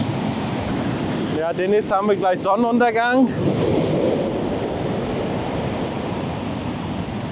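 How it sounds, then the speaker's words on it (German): Ocean waves wash onto a beach near Paphos, Cyprus, in a steady, loud surf roar with wind buffeting the microphone, while a person speaks briefly over it partway through. "Schaut mal, die Wellen."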